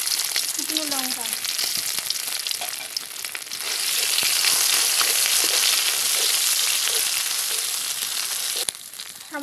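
Bay leaf, panch phoron, ground cumin paste, ginger and dried chilli fry in hot oil for a vegetarian jackfruit curry, giving a loud, continuous close-up sizzle with occasional stirring scrapes.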